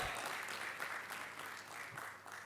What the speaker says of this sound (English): Can I have a huge round of applause for our chairman, CA Jayaprakash Agrawal?